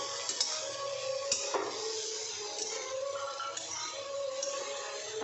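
A spoon stirs tomato okra (bhindi) masala in a pan, giving light metallic clinks and scrapes against the pan over a soft, steady sizzle.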